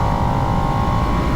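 A 2022 Harley-Davidson Nightster motorcycle engine revs high around 7,000 rpm while riding at speed, a loud, steady, continuous drone with no pauses and no talking.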